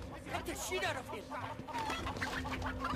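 Fowl clucking and squawking during a cockfight in the video game Sleeping Dogs, busy bird calls layered over constant game noise and a talking voice.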